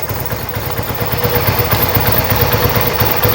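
A Yamaha XS1B motorcycle engine idles slowly at a steady, low rumble, its loud, even putter carrying on throughout with no voices over it.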